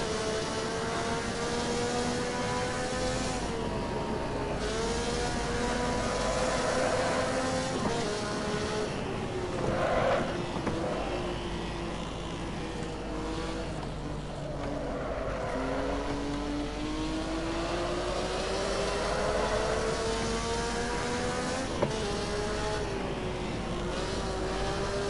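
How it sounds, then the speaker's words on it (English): A race car engine in the Assetto Corsa driving game revs hard through repeated gear changes, its pitch climbing and dropping in long sweeps as the car is pushed to the limit and over-revved, loud and continuous with no talk. "Over revved my engine a bit there."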